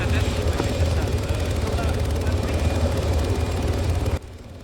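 A helicopter in the video game ArmA 3 gives a loud, steady rotor and engine drone with a constant low rumble that cuts off abruptly near the end, with players talking over it.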